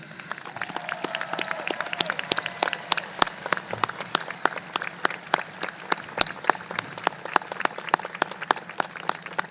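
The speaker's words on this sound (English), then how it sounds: "Please join me in one more round of applause of appreciation" Scattered, distinct claps from a modest audience at the Canyon High School Class of 2020 graduation ceremony, a steady irregular patter of individual hand claps at moderate volume.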